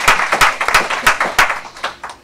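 A round of applause at a welcome event in St. Thomas, US Virgin Islands, comes through as loud, crisp claps in a fast, steady, evenly spaced rhythm lasting a couple of seconds.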